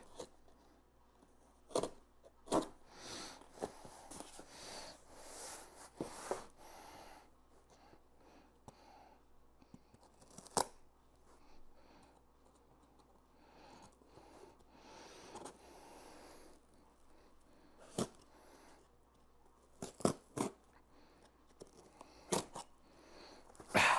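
Tape being cut and torn away from an Xbox 360 console box during unboxing: sharp, irregular crackling rips and snips come in bursts, close and fairly quiet, with pauses between pulls.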